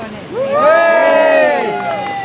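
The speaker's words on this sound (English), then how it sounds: "Can I get a cheer for the Scot?" At a medieval tournament reenactment in a park, the crowd cheers loudly for Ragnall the Scot with a swell of shouting voices that rises, holds and then eases off.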